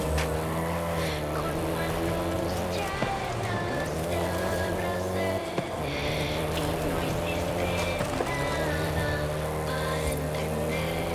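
Volkswagen Golf GTI driving in Forza Horizon 5, a loud, steady engine hum with layered harmonic tones and small pitch dips at shifts, continuous throughout with faint rattling above.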